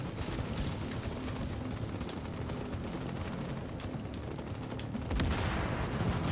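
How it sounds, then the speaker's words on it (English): Dense gunfire fills a firefight in the video game The Division while a player snipes at grenadiers, a continuous crackle of rapid shots with a heavier burst near the end, no speech. "I'm sniping these grenades because I need to get my sniping game back on"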